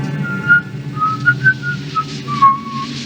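Someone whistles the tune of Camptown Races in a film scene, a few clear melodic notes, moderately close over a low background hum, with no talking.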